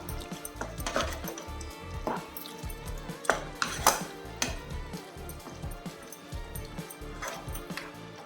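A spoon stirs chicken curry in a pot with irregular metallic clinks and scrapes, some sharper knocks standing out against a quiet background.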